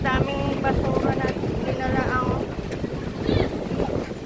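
Strong wind buffets the microphone on a beach at South Bay near Quintana Park, a constant rumbling roar under a man's speech.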